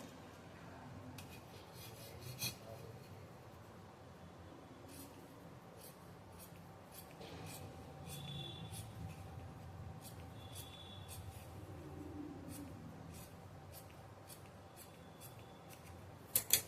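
Scissors cut through saree fabric for a churidar, with a series of crisp snips and rustling fabric over several seconds. The sounds are close-up and fairly quiet, with no speech.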